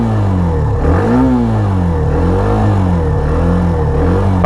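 A Hero Xtreme 125R single-cylinder motorcycle engine runs loud and near, its pitch rising and falling with the throttle in smooth swells over a constant rumble.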